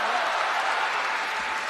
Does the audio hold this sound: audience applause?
yes